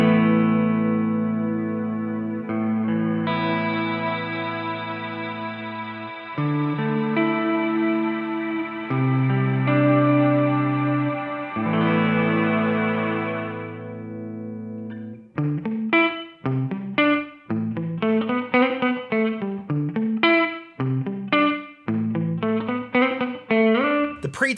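A DemonFX reverb and delay workstation pedal sustains held, layered electric guitar chords that ring out in long tails, then switches to choppy, rapidly repeating short notes near the end, loud and without speech.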